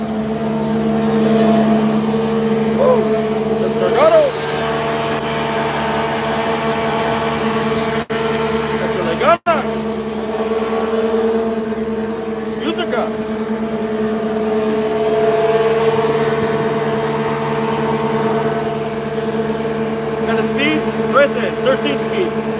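Idling truck with an old-school Detroit diesel engine and a 13-speed transmission, a steady low rumble running throughout with a sharp bang near the middle, while people talk nearby.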